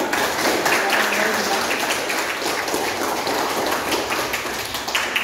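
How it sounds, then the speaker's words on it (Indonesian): A class applauds after a lesson reviewing prostration prayers. Blurred, continuous clapping fills the room at moderate volume, with voices running underneath the whole time. "Beri tepuk tangan untuk kita."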